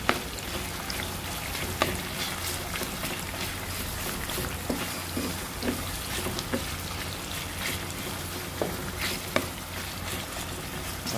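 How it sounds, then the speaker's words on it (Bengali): Chopped onions frying in a pan for a hard chicken curry, a continuous crackling sizzle with occasional sharp ticks as they are stirred. "এই পেঁয়াজ কুচিগুলো ভালো করে আমাদের নাড়িয়ে চাড়িয়ে নিতে হবে"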